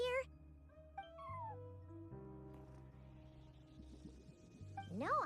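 A cat meows several times at a front desk inside the video game Genshin Impact, short rising and falling calls over soft game music, with a voice talking partway through.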